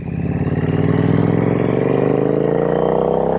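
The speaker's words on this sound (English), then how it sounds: "Great sounding bike. This is a 900cc inline twin." Triumph Street Twin 900 motorcycle, 900cc inline twin with a 2-in-2 exhaust, revving up hard and continuously. The loud, close engine note climbs steadily in pitch with a throbbing pulse and no voices over it.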